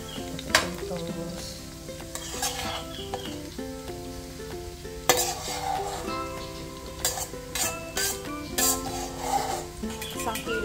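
Mashed potatoes stirred into a hot pan over lightly browned ingredients, with a sizzling hiss and repeated scraping and stirring strokes of a utensil against the pan, close and fairly loud.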